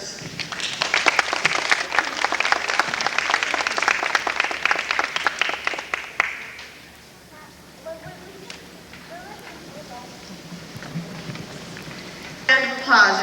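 Audience applause for a student's most-improved award at a school ceremony, dense clapping for about six seconds that fades out, followed by quieter room sounds and a brief stir at the end.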